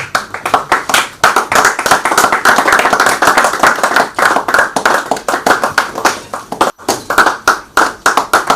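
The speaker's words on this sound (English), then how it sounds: "Please give him a round of applause." Clapping from an audience at a public independence lecture, with loud, close, distinct hand claps in a fast irregular patter, briefly dropping out near the end before resuming.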